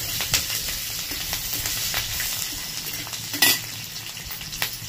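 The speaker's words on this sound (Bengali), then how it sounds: "এবার এর মধ্যে দিয়েছি কাঁচা লঙ্কা কুচি" Finely chopped medium-sized green chilies fry in a pan for vegetarian rice, with close, steady sizzling and a spatula or spoon stirring and occasionally clinking against the pan.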